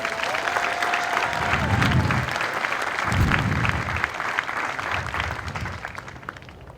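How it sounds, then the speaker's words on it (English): Audience applause at an Air Force basic military training graduation ceremony, a large crowd clapping steadily and densely throughout, gradually thinning toward the end. "Give them a round of applause, please."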